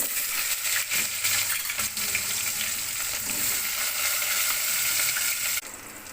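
Onions sizzle and crackle steadily in hot oil, with a dense hiss and occasional stirring noises throughout.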